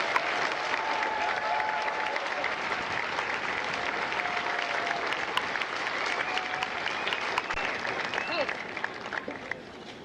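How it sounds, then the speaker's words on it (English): Sustained applause from a large crowd at a Marine Corps Recruit Depot San Diego recruit graduation ceremony, a steady dense wash of clapping lasting throughout with faint voices mixed in. "Please join me in a round of applause for the company staff of Echo Company."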